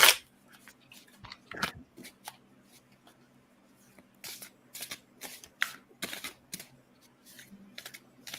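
Tarot cards shuffled by hand, a series of crisp riffling flutters and slaps in irregular bursts, louder in the second half, close and with no talking.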